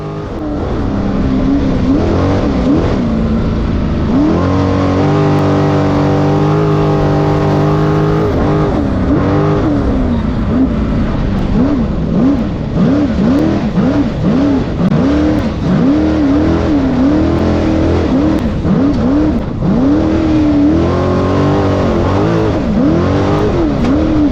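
Loud engine roars and revs continuously as an off-road race car or UTV drives hard over rough desert ground, with the pitch repeatedly rising and falling through gear changes.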